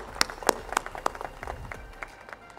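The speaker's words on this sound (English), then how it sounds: "give him a big round of applause to the Vice Chancellor" Sparse, distinct hand claps from an audience in a campus hall applauding the Vice Chancellor, a few sharp close claps over a thin background patter.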